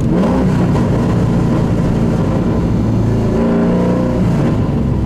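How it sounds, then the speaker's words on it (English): A Pontiac Trans Am engine sounds loud and close inside the car as the driver makes rev-matched downshifts. Its throaty drone holds steady, then rises and falls in pitch as the revs climb and drop. "Gonna push the clutch in, rev it about 500 RPMs, drop it in the fourth."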